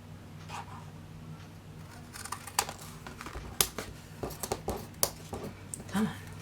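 Scissors cutting through a paper masterboard to shape a large tag for junk journaling, with a series of short crisp snips and rustles growing louder toward the end over a steady low hum.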